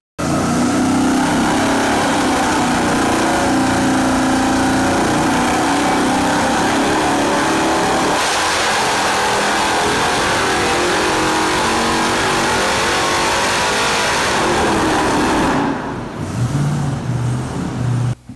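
A supercharged junkyard LS engine with an M90 blower roars on a dyno, a loud sustained run with rising revs, a shift in pitch partway through, then easing off near the end.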